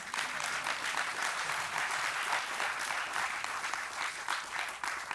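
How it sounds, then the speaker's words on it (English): Steady, full applause from an audience at a cruise ship christening ceremony, a dense, even wash of clapping that holds throughout. "You can clap for that."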